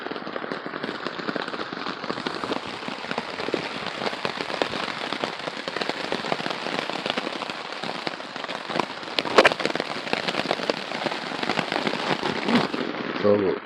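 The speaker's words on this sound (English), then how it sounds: "it is raining quite heavily" Heavy rain pours down on a cold morning during a passing storm cell, a dense crackling patter close by with sharp drop impacts throughout, swelling briefly louder near the middle and continuing steadily to the end.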